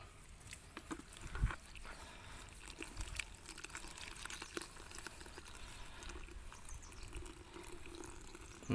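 Thin stream of water trickling from a low-flow tap into a nearly full bucket while filling drinking water for cattle in the dry season; a steady, soft patter with no speech.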